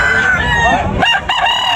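A rooster crows loudly and close at a chicken market, one drawn-out call rising and breaking off, with faint background voices.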